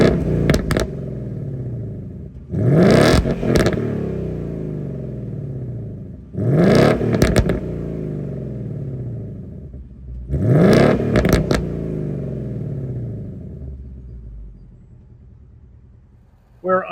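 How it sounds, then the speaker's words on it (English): A 2019 Ford Mustang Bullitt's 5-litre Coyote V8 exhaust revs loudly in three sharp, evenly spaced throttle blips, each climbing then dropping back to a deep, rumbling idle between them. "let's take a listen to this beautiful exhaust"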